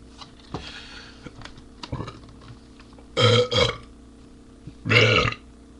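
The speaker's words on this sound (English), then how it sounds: "I want to get the world record for the longest burp" Several loud, close burps come in short bursts, two near the middle and one toward the end, with quiet rustling and clicks between them.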